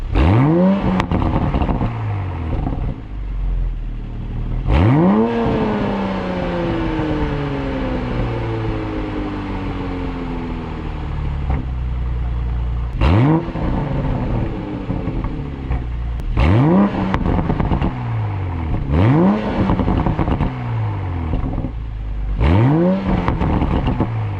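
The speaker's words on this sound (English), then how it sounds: "there was some revs in sport mode" A Toyota MK5 Supra with stock exhaust revs hard several times in sport mode in short bursts, pitch sweeping up and falling back, loud and close with a smooth, mild exhaust tone between blips.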